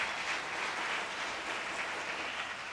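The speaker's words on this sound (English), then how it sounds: "So maybe we should give a clap to Dr. Rahul, Suresh, and the team for this." Steady applause from an audience for Dr. Rahul, Suresh and team at the Human Space Flight Expo 2022, a continuous soft wash of clapping heard from a distance with no talk.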